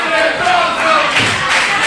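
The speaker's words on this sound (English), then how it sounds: "This crowd on their feet." A standing-room-only crowd at an independent wrestling show roars and cheers loudly and continuously, voices swelling in waves.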